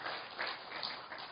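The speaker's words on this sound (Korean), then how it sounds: "우리 조용히 박수 한번 보내드리겠습니다" A church congregation gives quiet, gentle applause at a Sunday worship service to welcome a newly registered member, a soft, even patter of many hands that stays low and steady throughout.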